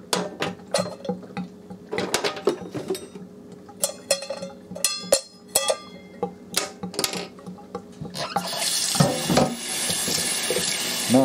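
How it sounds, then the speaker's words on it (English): Pots and dishes clink and clatter in a sink, then a tap runs in a steady, close rush as a pot is washed. "Now it's time to clean this pot real good before you use it for any cooking purposes."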